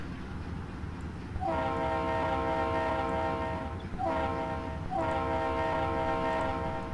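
A locomotive horn in the Trainz rail game sounds in three long chord blasts over a steady rumble of the moving train.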